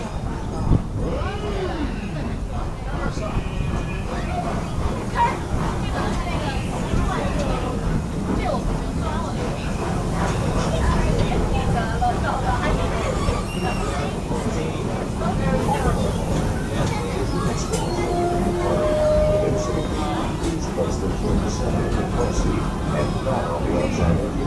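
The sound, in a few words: Busch Gardens railway train riding on rails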